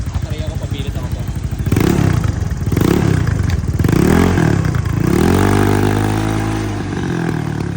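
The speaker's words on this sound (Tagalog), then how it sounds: "So try natin ngayon pakinggan yung V8." Motorcycle fitted with a rare restored V8 exhaust pipe, revving up and down in several rising surges, loud and close, then settling into a steady idle; no clear talk over it.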